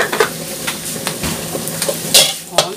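Shallots crisping in hot oil in a pan, a steady close sizzle with intermittent stirring scrapes and clinks of a utensil against the pan.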